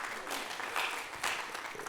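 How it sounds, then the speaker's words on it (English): An audience at a seminary convocation gives a short, warm round of applause, dense overlapping claps with a couple of louder swells, heard from within the hall. "Let's give them a round of applause."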